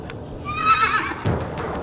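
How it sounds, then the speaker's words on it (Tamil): A horse whinnies in a loud, wavering neigh lasting about a second, with scuffing and hoof-like knocks around it and no voices. "நமக்காகவே குதிரை தயாராக இருக்கின்றது"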